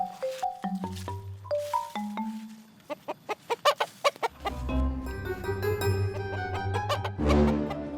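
A chicken clucks in short, stepped bursts, then percussive taps and a tonal musical backing take over toward the end.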